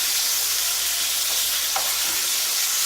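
A steak fries loudly in a pan with oil, garlic, thyme and butter, giving a close, steady, dense sizzle that barely changes for several seconds, with no voices.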